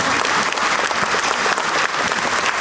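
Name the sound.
audience clapping after poem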